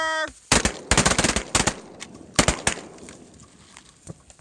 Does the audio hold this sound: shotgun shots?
yes